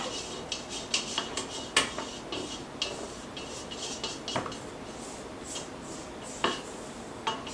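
A spatula scrapes around the sides of a mixing bowl of cake pop mixture, giving a string of light, quick scraping and clinking strokes at close range with irregular rhythm and no talking.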